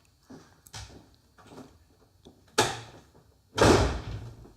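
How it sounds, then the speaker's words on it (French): Several door thuds indoors, building to a hard slam near the end, sharp and close with short gaps between impacts and no talking. "Ah, c'est ça, claque la porte."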